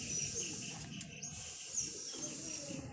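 Domestic pigeons kept as breeding pairs coo in soft, low repeated calls against a steady noisy background, with no talk.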